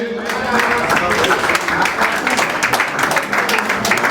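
Audience applause at an event presenting a singer's album release, dense clapping filling the space at steady volume, with a voice faintly talking over it.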